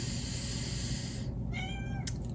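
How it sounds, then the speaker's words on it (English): A pet cat meows once, a clear drawn-out call near the end, heard over a steady hum of room noise, with no talk. "Then you can hear my cat."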